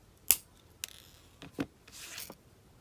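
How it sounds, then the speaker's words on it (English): Sharp wire snips cutting jewellery wire for a wire-wrapped pendant: a few crisp, separate clicks spaced out over a quiet background, close and fairly soft, with light handling rustle between cuts. "And this wire, I'm going to cut it a bit shorter."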